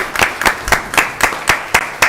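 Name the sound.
audience applause in meeting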